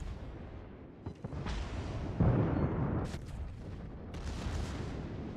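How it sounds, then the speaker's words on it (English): A warship's secondary guns fire in the naval battle game World of Warships, giving several deep, rumbling booms with distant cannon blasts that roll and overlap, loud and heavy, with no talking. "Those are my secondaries lining up hits on that thing."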